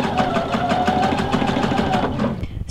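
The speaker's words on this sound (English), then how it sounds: "We're going to lower the presser foot and begin sewing." Sewing machine fitted with a roller foot stitching heavy fabric, a steady fast mechanical whir with a regular stitching rhythm, close and clear, stopping near the end.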